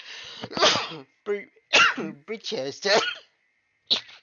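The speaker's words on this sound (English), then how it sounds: "Just had a bit of a sneezing fit." A series of sharp sneezes and throat sounds in quick bursts, close and loud, mixed with a brief spoken word.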